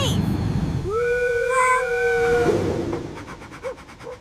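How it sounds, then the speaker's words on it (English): An animated cartoon train gives a long, tonal whistle-like horn blast, followed by a quieter rumble as it moves off. "The train is moving."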